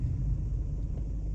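Steady, close low engine rumble from a car being driven during a driving lesson, holding an even level throughout with no voices.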